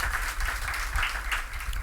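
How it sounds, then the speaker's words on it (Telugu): Congregation clapping hard during a Sunday church service, a sustained, fairly even roar of many hands with slight swells, moderately loud throughout and without voices on top. "గట్టిగా చప్పట్లు కొడుతూ దేవుని మహింపరుద్దాం ఒకసారి"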